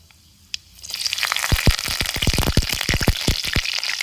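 Mustard seeds, urad dal and curry leaves hit hot oil in a pan. After a brief quiet start, a loud frying hiss rises, filled with rapid, sharp crackles and pops from the spluttering seeds.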